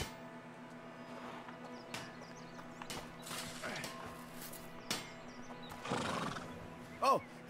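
A horse whinnies with a rising, wavering neigh in the video game A Plague Tale: Innocence, with hoofbeats clip-clopping and faint game ambience beneath it.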